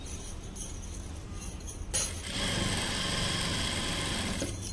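An electric sewing machine stitching a lehenga runs in a steady fast whir that starts up after a short pause and holds at an even level, close by with no talking.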